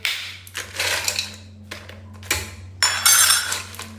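Ice is broken into small pieces for lassi, giving a series of sharp, close crunching and clinking knocks in irregular bursts over a steady low hum.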